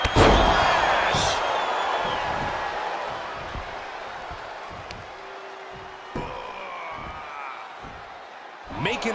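A wrestler's splash lands on the mat in WWE 2K22 during a 1997 Royal Rumble match, a sharp slam over a loud arena crowd roar, followed by scattered thuds as commentary talks throughout.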